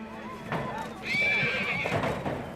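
A wild horse gives a clear, drawn-out whinny in a wintry setting, with hooves clip-clopping nearby and a voice speaking over it.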